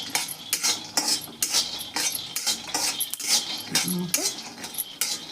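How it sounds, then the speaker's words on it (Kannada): Peanuts roasting dry in a pan are stirred with a metal spoon, giving quick close scraping strokes and light clinks against the pan in an uneven rhythm, with a brief spoken word. "ಇಲ್ಲೇ ಶೇಂಗಾ ತೊಗೊಂಡಿದ್ನಲ್ರಿ, ಇವನ್ನಷ್ಟು ಹುರ್ಕೋತೀನಿ ನಾನು"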